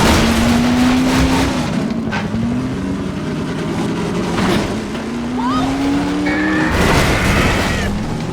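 In Half-Life 2, a car drives while a helicopter hunts it, giving a loud, continuous engine roar with rising and falling pitch, scattered bangs and skids, and a brief high whine.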